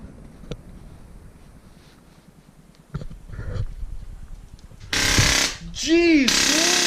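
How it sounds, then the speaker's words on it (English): An impact tool cracks loose connecting rod bolts with an E12 socket during a Ford Focus ST engine build, a few loud, rattling hammering bursts after quieter shop sounds. "these sockets are E sockets, and this is an E12. So I'm gonna start cracking these off here"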